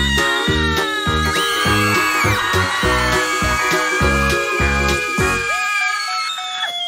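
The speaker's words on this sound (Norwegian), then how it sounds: "barna roper for høyt" Children shout loudly in a rapid string of high, piercing bursts that repeat without pause before breaking off near the end.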